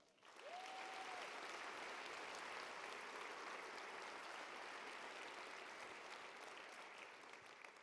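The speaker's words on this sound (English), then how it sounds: "Let's give them a round of applause." Sustained applause from a large crowd at a university commencement, dense and steady clapping that fills the space for several seconds before starting to thin slightly.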